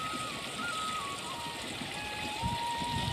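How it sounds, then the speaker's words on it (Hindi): Glacier-fed stream water flows through mountains, a steady faint rushing and trickling with no breaks. "ग्लेशियरों से आता हुआ और शुद्ध जल है"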